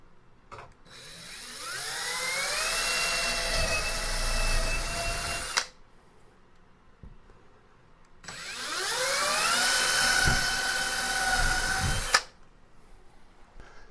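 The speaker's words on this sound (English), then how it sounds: "So we pre-drill these 2 holes." A power drill whines in two long bursts while pre-drilling two holes in a wall, each spinning up in pitch and running several seconds, separated by a short pause; close and fairly loud.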